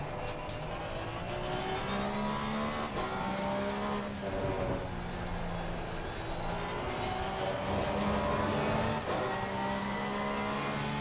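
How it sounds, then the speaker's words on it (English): Race car engine in Assetto Corsa Competizione, a steady loud drone whose layered harmonics repeatedly climb and drop as the car accelerates and shifts through gears, with no talking over it. "Rather than only hearing the engine note."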